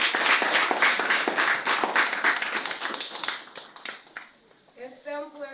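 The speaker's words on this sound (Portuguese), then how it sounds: "Aplauda para Jesus." A church congregation clapping together during a service, dense rhythmic handclaps for several seconds that thin out and stop, followed by a voice speaking.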